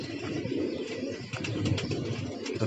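Pigeons coo softly on a rooftop in strong wind, low murmuring calls set against steady gusting noise, faint and fairly close, with no voices.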